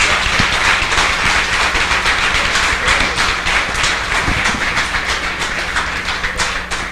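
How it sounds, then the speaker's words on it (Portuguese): A church congregation claps loudly after a blessing, a thick, continuous wash of many hands that holds strong throughout and tapers slightly at the end, with no voices over it. "Então pode aplaudir o Senhor agora bem forte."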